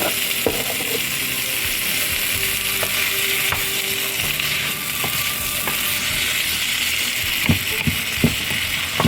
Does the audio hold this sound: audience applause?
no